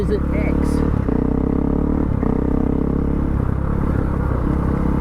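A Ducati Desert X motorcycle engine runs loud and close, a steady throbbing drone with clattering and scraping over rough ground, lasting the whole stretch without pause.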